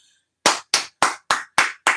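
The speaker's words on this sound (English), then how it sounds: "Give you a round of applause" Six sharp, evenly spaced bursts of clapping from a small group, loud and close, following a brief faint tone at the start.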